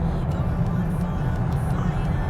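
Hyundai or Tesla performance electric car accelerating on a track in track mode, a steady low road and motor rumble with tyre noise, continuous and close, no speech over it.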